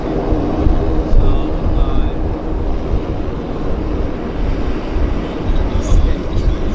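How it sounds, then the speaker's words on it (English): Airplanes departing at Vancouver Airport, a steady loud low rumble of jet engines running throughout, with a few faint higher tones on top. "These airplanes finally leaving"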